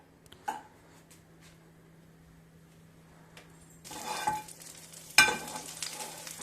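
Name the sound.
paneer pieces frying in butter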